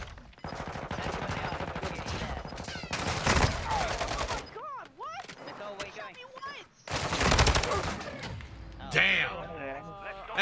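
Rapid automatic weapon bursts in the first-person shooter Call of Duty: Modern Warfare II during an overtime match, arriving in loud clusters separated by pauses, with excited players talking over the shooting.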